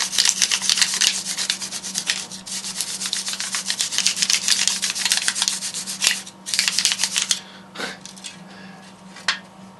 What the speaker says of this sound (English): here I've got just a Scotch-Brite pad, so I'm just going to rough this up a little bit